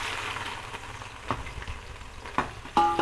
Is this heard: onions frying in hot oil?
yes